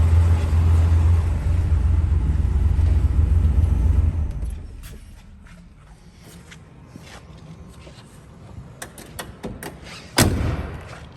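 A 1964 Chrysler 300 Series K engine idles with a deep, steady rumble for about four seconds, then shuts off, leaving a quiet background broken by scattered sharp clicks and knocks.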